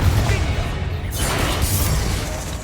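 A Confringo fire spell in Hogwarts Legacy bursts with a loud explosive boom and rushing crackle amid combat, heavy low rumble sustained over a couple of seconds.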